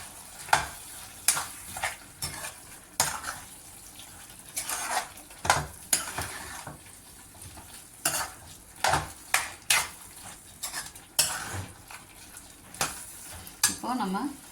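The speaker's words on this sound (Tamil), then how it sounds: "நல்லா மிக்ஸ் பண்ணி விட்டுக்கலாம்." Ground masala is stirred into a Chettinad chicken gravy in a pan. A low sizzle runs under rhythmic stirring, with regular metallic scrapes and clinks of the spoon against the vessel roughly every second. No one speaks.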